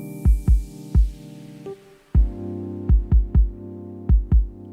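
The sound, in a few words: chill chords from studio track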